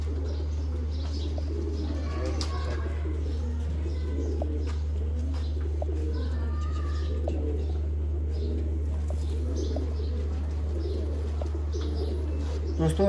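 Sialkoti black-faced pigeons coo in soft, repeated low phrases over a steady hum, with occasional faint chirps and wing flutters throughout.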